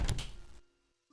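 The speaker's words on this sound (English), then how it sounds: "somebody opened the door to detention" A video game door to a detention room swings open with a short heavy thunk and scrape, then cuts off abruptly into near silence.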